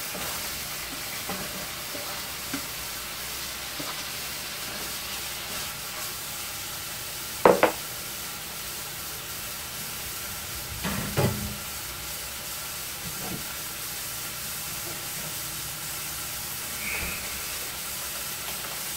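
Sausage frying in a pot as the base for New Orleans style red beans and rice gives a soft, steady sizzle and hiss, broken by two brief clatters.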